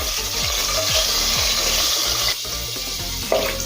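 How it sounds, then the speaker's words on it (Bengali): Potatoes fry in hot oil in a covered pan, a steady broad sizzle filling the whole stretch with low rhythmic knocks and scrapes beneath, loud and close, with no voices. "তাই আলুগুলোকে খুব ভালোভাবে ভেজে নিতে হবে।"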